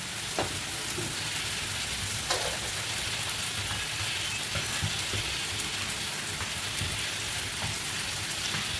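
Marinated chicken pieces dropped into hot oil with browned onions for chicken kosha, sizzling in a dense, continuous spatter with small crackles and pops, close up and without speech.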